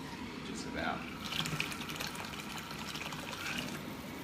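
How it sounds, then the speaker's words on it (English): Hot water from a kettle pours steadily into a vessel, a continuous close splashing stream lasting several seconds with faint background noise. "we got some hot water, which I'm actually gonna get some kettle water"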